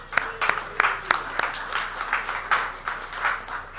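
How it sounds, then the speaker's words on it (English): Applause at a Rotary club meeting in a winery, a small audience clapping in scattered bursts with distinct individual claps standing out, moderately near and steady for a few seconds. "Let's give Rotary a round of applause."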